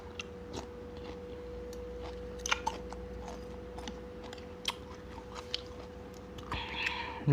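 Someone eats Thai papaya salad with crab, with close, crunchy chewing and scattered bites over a steady low hum, in short irregular bursts with no talking.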